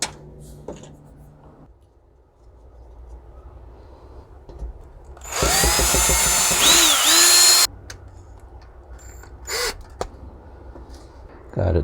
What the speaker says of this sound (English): I'm going to take my drill and drill out a hole